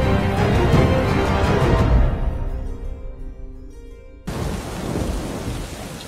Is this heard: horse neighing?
no